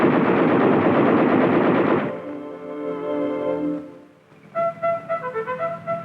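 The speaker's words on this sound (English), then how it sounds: "A computerized fire control system brings the full fury of the tank's guns on any target with telling speed and accuracy." Guns of an M-60 tank firing, a dense roar of sustained fire for about two seconds, then fading rumbling bursts and a final run of rapid, evenly spaced shots, loud and alone.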